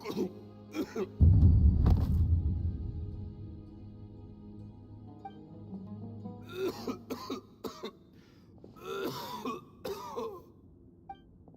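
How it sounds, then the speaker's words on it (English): Harsh, heavy coughing fits up close from a video game character, a loud burst followed by weaker coughs and throat clearing, with a voice speaking intermittently. "Why is he coughing so much?"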